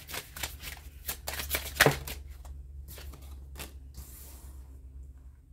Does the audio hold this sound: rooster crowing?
no